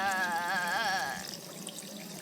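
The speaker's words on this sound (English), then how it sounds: "Splash some water in your face to calm yourself down." Water running from a sink tap in the video game Rue Valley, a steady rushing stream with a faint wavering tone that stops after about a second, leaving quiet room ambience.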